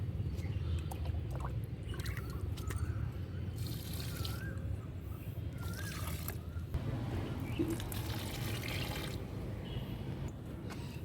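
Liquid fertilizer is poured onto vegetable plants in a home garden, a continuous soft trickling and splashing close by, with faint birdsong and a few brief rustles over it.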